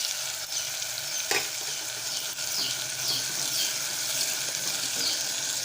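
Kohlrabi and chana dal sauté in a cooker, giving a steady soft sizzle with the occasional scrape of a stirring spoon, fairly quiet and continuous, with no talking.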